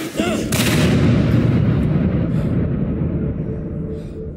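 A gunshot in the video game Indika, a loud, heavy blast that booms and rumbles for several seconds before slowly fading, with no voices over it.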